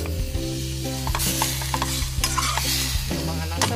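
Adobo ingredients sizzling in a pan while a utensil stirs them, steady frying hiss broken by repeated clinks and scrapes, close and fairly loud with no voices.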